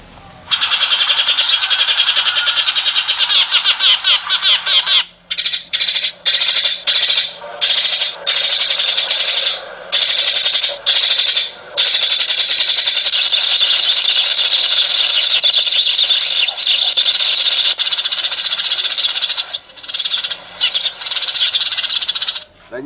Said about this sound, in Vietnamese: âm thanh nó rất là ồn, ồn và réo, tiếng chim nó không chuẩn